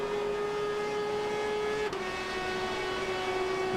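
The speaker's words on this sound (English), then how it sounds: "Mazda humming away there." A Mazda race car engine holds a steady, sustained hum during the Rolex 24 at Daytona endurance race in 2010, one continuous tone that dips slightly in pitch midway with no talk over it.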